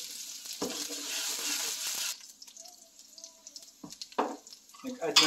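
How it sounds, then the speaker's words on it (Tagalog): Onion and garlic sautéing in a pan during cooking of pan-seared dory, soft sizzling that fades after a couple of seconds, followed by light clinks and stirring sounds, faint and close. "Nagsatay na tayo ng onion and garlic."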